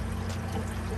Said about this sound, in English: water comes back through those return pipes